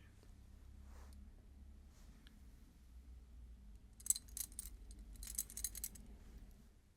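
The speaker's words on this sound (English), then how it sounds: "Set of keys." A set of keys jangles close up in a quiet room, with soft intermittent rattles building into a couple of brighter clusters of clinking metal near the end. No one speaks.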